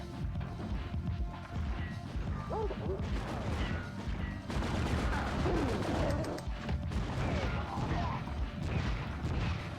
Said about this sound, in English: Man, the shotguns in this are terrible.